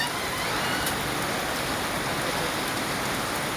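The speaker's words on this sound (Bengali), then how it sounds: "হাইরে বৃষ্টি হচ্ছে দেখেন।" Steady, dense rain pours down without a break, a loud even hiss of drops hitting surfaces close by, with no voices over it.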